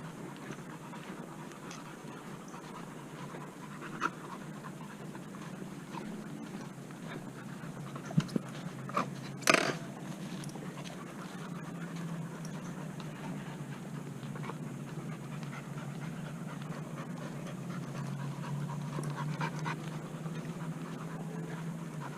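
Dogs pant steadily and softly while out on a sandy trail walk through a Florida park, a continuous breathy rhythm under a faint outdoor hum, with a few brief louder knocks midway and no talk.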